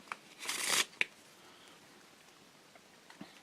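A brief riffle of playing cards being shuffled, close and crisp, followed by a single snap and quiet handling noises.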